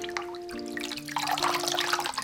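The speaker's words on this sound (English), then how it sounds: "So once I've worked that in, I'm just going to rinse my face." Running water splashes and trickles steadily while someone rinses a frothy face wash off their face at a sink, with a faint tonal hum beneath the close, continuous wash of water and no talking.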